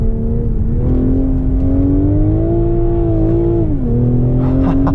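A BMW Z4 sports car engine drones loudly from inside the cabin on a race track, its pitch rising and falling smoothly as it accelerates and eases off, with steady road rumble beneath.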